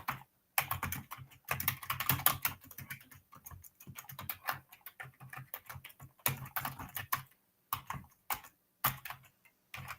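Steady typing on a computer keyboard during a late-night live tarot reading session, quick bursts of close, crisp key clicks broken by short pauses, with no talking.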